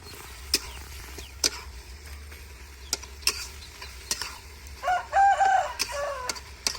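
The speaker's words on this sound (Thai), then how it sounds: "นี่ก็อยู่กันทั้งนานะครับ มีทั้งไก่" Rooster crowing on a rice-field farm: a brief, distant crow rises over the clatter of a spatula stirring pork stir-fry in a pan.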